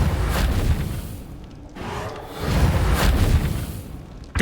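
Reparo repair spell cast in Hogwarts Legacy: two swelling rumbling whooshes with deep booming low end, each rising and fading over a couple of seconds, loud and full.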